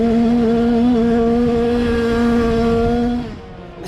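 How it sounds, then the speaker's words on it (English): A motocross dirt bike engine is held at high, steady revs on the final lap of a race, a loud, sustained buzzing drone that drops away abruptly near the end. "Let's just listen to Cooper pin it down here"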